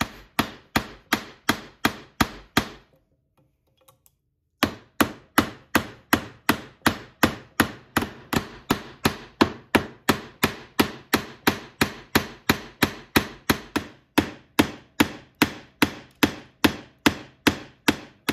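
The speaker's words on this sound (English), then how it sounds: "I'm wailing away on it with this hammer" Rapid, steady hammer blows striking a knife blade into a 2x4 board, loud and close, with a brief pause early on before the rhythmic pounding resumes.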